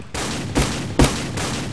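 Gunfire from a video game weapon: three or four loud, close shots at a steady pace, each with a sharp broadband crack.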